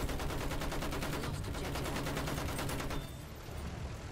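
Rapid automatic gunfire rattles in a Battlefield 1 multiplayer match, a loud, dense, evenly spaced burst lasting about three seconds before cutting to quieter battlefield ambience.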